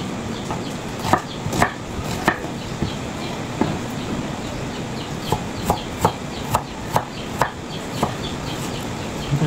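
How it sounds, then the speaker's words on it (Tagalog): Onions for a tofu and pork dish are sliced with a knife on a cutting board, giving sharp, steady chops at a regular pace, close and fairly loud, while a chicken clucks in the background. "Kaya po itong sibuyas po muna aking mahiwain."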